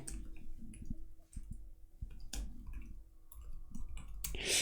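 Computer mouse clicks while signing up in a ClickUp web app, several sharp close clicks scattered irregularly over quiet room tone, no talking.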